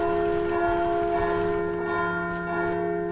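A sustained, resonant bell toll from the medieval RPG StoneShard, ringing steadily with a long humming decay across the whole stretch, loud and without speech.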